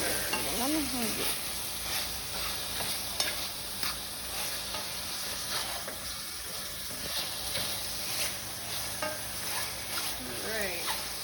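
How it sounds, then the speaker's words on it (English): Portabella mushrooms sautéing in a pan while being stirred, with a dense, bright sizzle and repeated scraping sweeps of a utensil across the pan, close and steady for several seconds, with no talking over it. "Just give that a nice little stir"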